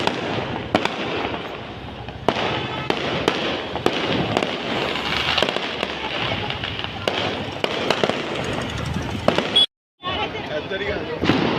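Firecrackers burst during Diwali in rapid, irregular sharp pops, close and loud, with crowd voices chattering underneath.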